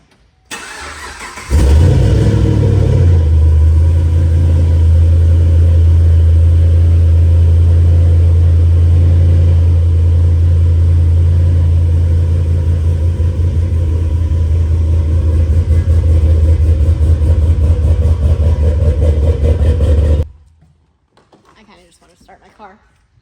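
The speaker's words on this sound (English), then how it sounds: "I'm going to start the car, let it run for just a minute" A car engine fitted with a new cam cranks and catches, then settles into a loud, steady, lumpy idle that runs close and unbroken for nearly twenty seconds before cutting off abruptly, leaving near silence.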